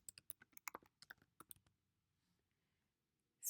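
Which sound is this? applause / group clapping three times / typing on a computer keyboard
typing on a computer keyboard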